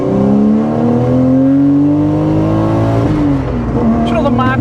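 Toyota JZX90 Mark 2 with a 1JZ engine revs hard and close on the throttle, its tone climbing steadily before dropping off, with voices briefly heard near the end.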